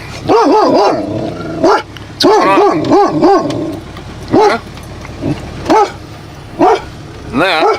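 A dog barks loudly and repeatedly in sharp bursts of a few quick barks each, spaced irregularly and close to the microphone, with someone briefly speaking among them.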